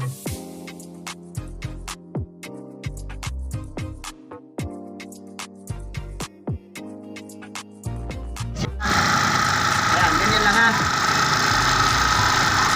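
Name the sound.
Suzuki Burgman motorcycle engine running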